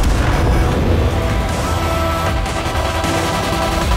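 Heavy tank cannon fire in World of Tanks, aimed at an Indian Panzer, booming dense and loud throughout amid constant battle noise, with no talk.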